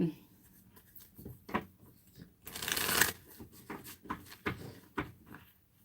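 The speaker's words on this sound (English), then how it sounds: "Now that I just decided that I better shuffle some more." Tarot cards being shuffled up close in several bursts of riffling and sliding, with one longer, louder rush midway and quieter handling before and after.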